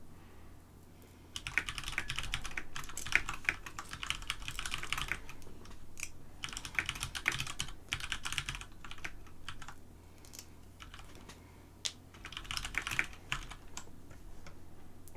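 Brisk bursts of typing on a computer keyboard, close and clear, with short pauses between flurries of keystrokes and no talking.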